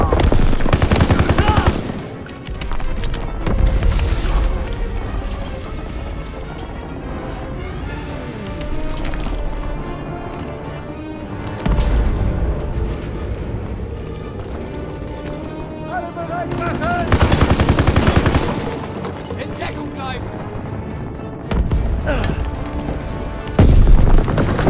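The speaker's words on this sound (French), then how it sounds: "Je balance une grenade!" A Call of Duty WWII battle: heavy bursts of gunfire and machine-gun volleys crack and rattle repeatedly, with a grenade explosion and booming blasts breaking in, while soldiers shout over the loud, continuous combat.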